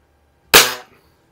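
A single sharp shot from an Anschutz model 335 break barrel air rifle, loud and close, with a quick crack that decays within a few tenths of a second amid otherwise quiet surroundings.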